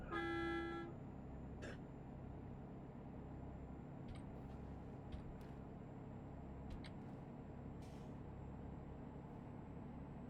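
A truck horn in a GTA video game after a crash, sounding as one short, loud, tonal blast at the very start, then fading into a low engine rumble with scattered faint clicks.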